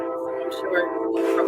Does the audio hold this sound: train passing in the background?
yes